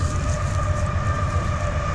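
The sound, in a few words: train passing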